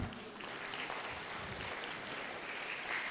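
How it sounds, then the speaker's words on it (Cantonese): A congregation applauds a group of young people at a church baptism service. The clapping is faint and steady and continues for a few seconds. "我哋先俾掌聲一班年青人好嘛？"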